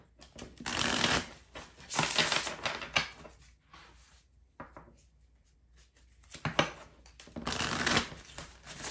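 A new tarot deck is shuffled by hand in bursts of riffling and flicking card noise, with short pauses between rounds, close and fairly soft, no talking.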